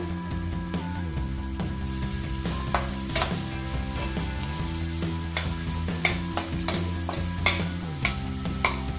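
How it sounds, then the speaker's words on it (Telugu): Onions frying in oil in a kadai for matar paneer, a steady close sizzle with frequent spatula scrapes and clicks as they are stirred, while a low steady hum sits under it and no one speaks. "ఇప్పుడు ఆనియన్స్ ఫ్రై చేసుకోవాలి ఆయిల్లో"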